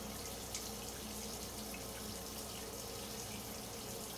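Steady tap water running into a sink as a makeup brush is rinsed, a continuous even rush that fills the whole stretch at low, constant loudness.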